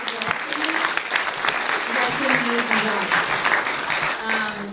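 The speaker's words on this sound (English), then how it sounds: "One more quick round of applause for Eve, for our panel, and also our sponsors" Audience at an immigration advocacy panel gives a brief round of applause that swells and fades over a few seconds, with a voice speaking over the clapping.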